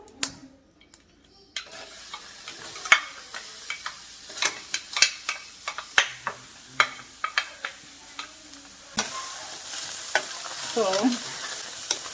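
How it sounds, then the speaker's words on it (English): Onions frying in a little oil as the sauce base for Nigerian-style fried rice, a hissing sizzle broken by repeated sharp clicks and knocks of a spoon against the pan, ending in a louder burst of frying. "So we're gonna fry the sauce for the fried rice."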